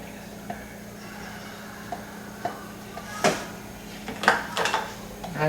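Shrimp, broccoli and cauliflower being tossed in a honey garlic mixture in a kitchen, with sparse clinks and scrapes of a utensil against a dish that build into a cluster of louder knocks near the end.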